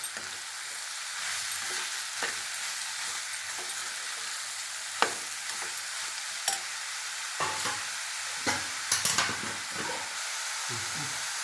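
Chopped ridge gourd sautés in a pan with a steady, close sizzle throughout, broken by short scraping clicks as it is stirred.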